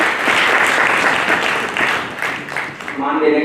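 Enthusiastic clapping from a large crowd at an award ceremony in the Parliament of India, dense and continuous, swelling and dipping slightly before a voice emerges as it tapers off.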